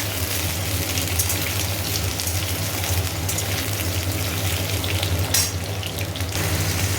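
Potatoes frying in a pan for a prawn and brinjal dish, a constant loud sizzle and hiss close up with a low steady hum beneath, no one speaking.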